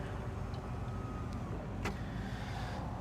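Electric motor of a 1970 Ford Mustang convertible's power top whirs steadily and close, with a short mechanical clunk near the middle.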